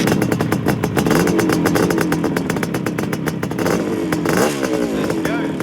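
A restored 1980 Suzuki GT250 X7 motorcycle with a fully rebuilt engine runs loud and close, its rapid, even engine pulses rising and falling as the throttle is blipped.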